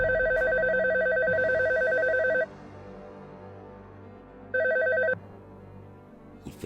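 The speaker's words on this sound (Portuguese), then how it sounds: "o meu telefone tocou." A telephone rings with a loud, warbling electronic trill, one long ring of about two seconds and then a shorter second ring after a pause, heard alone.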